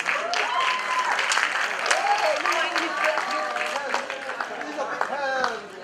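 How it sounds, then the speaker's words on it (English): An audience at a university visit claps hands together in a steady, lively wash, while a voice speaks over the clapping throughout. "let's clap our hands"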